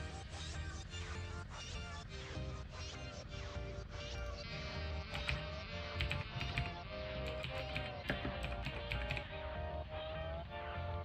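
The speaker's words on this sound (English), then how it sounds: "type in the username and password that I set up for my local account" Quick bursts of typing on a computer keyboard, entering a username and password, make a close, busy clatter of key taps that runs the whole time.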